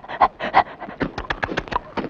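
A dog pants in quick, rhythmic bursts of heavy breathing close by while catching biscuits, with short pauses between the breaths.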